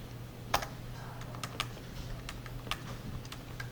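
Keystrokes on a computer keyboard while writing C code, a handful of sharp separate clicks at an irregular pace over a low steady hum, close and fairly quiet, with no talking.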